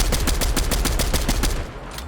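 An MK7 rifle in Fortnite fires a rapid, steady burst of about fifteen sharp shots at close range, then stops abruptly.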